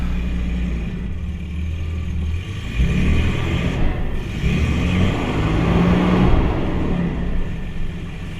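Jaguar XJ12 V12 engine idling with a low steady rumble, then rising slightly as the throttle is blipped, holding a fuller hum close by.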